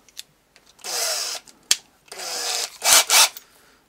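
A cordless drill with a compact body drives screws during a virtual pinball cabinet build, whirring in several short bursts of about half a second each, close and loud, with clicks and knocks between them.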